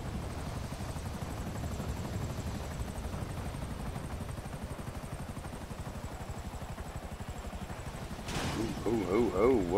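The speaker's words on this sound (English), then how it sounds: "Grab a chopper." Helicopter in the video game GTA 5 Online, a steady rapid rotor chop throughout, fairly close, with a burst of other game noise and a voice near the end.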